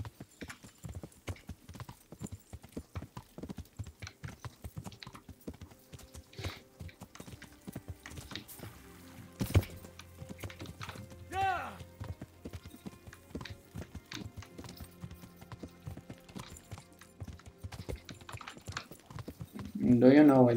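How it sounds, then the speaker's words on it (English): Horse hooves clip-clop steadily along a road in the medieval game Kingdom Come: Deliverance, a repeated walking rhythm lasting throughout, with a brief whinny and someone talking over parts of it. "Giddy up, Buttercup."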